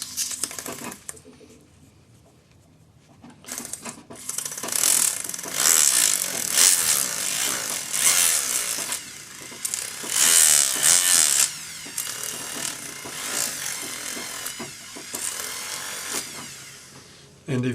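A pendant drill with a split mandrel whines and grinds in bursts, sanding the inside of a ring, loud and close, with brief pauses between passes and faint background voices.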